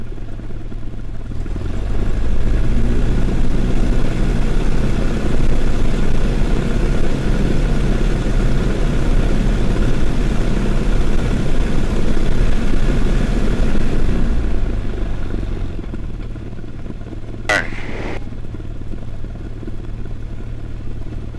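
A small airplane engine revs up from idle to a sustained loud, buzzing roar with a steady propeller throb, holds for about ten seconds, then winds back down to a low idle, with a brief click near the end.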